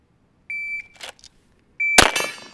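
A steady electronic beep sounds twice, followed by another beep that is instantly overtaken by a loud, sharp gunshot echoing away.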